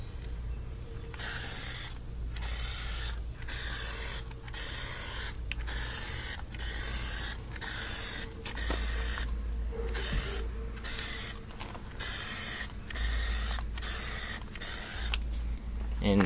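Aerosol can of Plasti Dip spraying light coats onto a car's interior trim in sweeping passes: a steady close hiss in repeated bursts of about a second each, separated by short gaps, continuing throughout.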